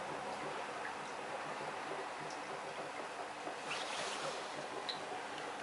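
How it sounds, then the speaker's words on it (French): Gas bubbling through water in a homemade DryCell bubbler, a steady dense fizzing and gurgling wash with a few faint ticks, continuous and close. "Donc ici on va bien buller."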